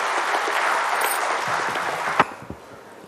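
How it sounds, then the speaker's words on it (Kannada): Audience clapping at a Karnataka Rajyotsava 2023 function as the state finance department official takes the stage; broad steady applause from a seated crowd that thins toward the end, with a couple of louder claps standing out. "ಅವರ ಅಭಿಮತಕ್ಕಾಗಿ ಚಪ್ಪಾಳೆಗಳ ಮುಖೇನ ಸ್ವಾಗತಿಸೋಣ ಬಂಧುಗಳೇ ಶ್ರೀ LK ಅತೀಕ್."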